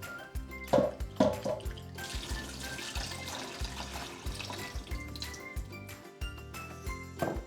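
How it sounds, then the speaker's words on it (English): Salted celtuce is rinsed under running tap water in a kitchen sink, with a steady close stream and splashing. Light clinks and handling noises break in near the start and end, and soft music plays underneath. "now I can get rid of the water and rinse off the salt in clean water"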